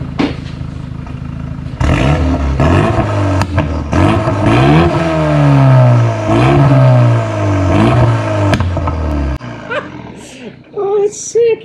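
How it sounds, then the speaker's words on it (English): A decatted Renault Megane RS250 running an RStuner Stage 1 map revs hard in repeated rising and falling sweeps, loud and close, with sharp pops and crackles on the overrun as the engine drops back toward idle. "It properly backfires now. Or pops and crackles."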